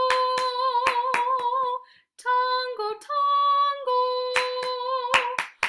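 Rhythmic hand clapping in a music lesson, sharp claps in short bursts at the start and end, broken up by a sung melody in the middle with a voice speaking briefly.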